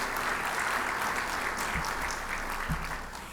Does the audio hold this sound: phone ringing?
no